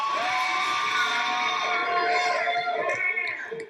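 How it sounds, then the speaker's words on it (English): A live show audience cheers and whoops loudly, with shouting voices in a continuous crowd roar that fades slightly at the end. "Let's give a round of applause for her."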